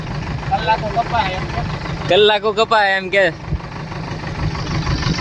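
A tractor engine idles in a village setting with a steady low rumble, running under a man's close speech throughout.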